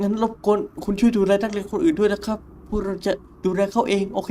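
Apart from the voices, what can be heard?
No everyday noise stands out behind the speech.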